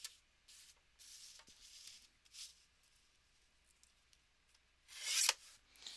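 Scissors cutting through a paper napkin for a craft, soft close snips and rustling strokes, quiet at first, then a louder crisp cut near the end.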